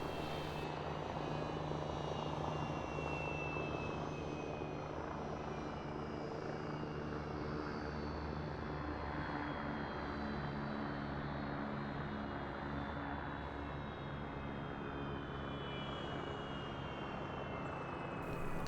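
An aircraft landing in the video game ARMA 3, a steady loud rotor and engine drone holding throughout with a slowly falling whine on top, no talking.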